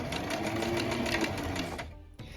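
A sewing machine runs steadily at close range, back stitching a fold over elastic waistband along serged seams, then stops abruptly near the end with a brief mechanical clunk.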